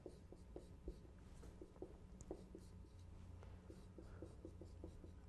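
Marker or chalk writing out a first-order polynomial on a lecture board, a steady run of small rhythmic taps and strokes, close and faint, with no talking.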